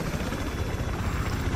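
A helicopter in the video game Battlefield 3 roars steadily and loudly, its thick rotor chop and engine whine filling the scene with no pauses.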